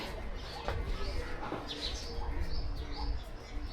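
Short bird chirps and tweets scattered over a steady outdoor rumble, some sounding close and others farther off.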